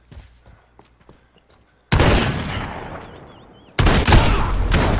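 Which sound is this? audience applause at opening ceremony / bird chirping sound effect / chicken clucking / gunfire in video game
gunfire in video game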